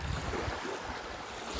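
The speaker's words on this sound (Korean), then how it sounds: "바다 소리." Ocean waves wash onto a beach on Yonaguni island, Japan, a steady rushing surf mixed with gusty wind buffeting the microphone.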